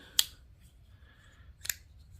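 Folding knife being opened and locked, two crisp, sharp metallic clicks about a second and a half apart, close and clear against a quiet background.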